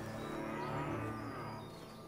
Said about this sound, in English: Oh, you can pet the cow.